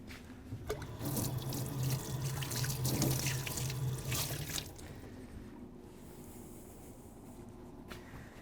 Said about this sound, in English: I'm going to wash my hand off.